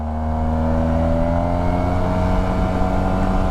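A 2022 Yamaha TMAX Tech Max scooter accelerates hard, its engine drone rising steadily in pitch and holding loud and close throughout, with wind rush underneath.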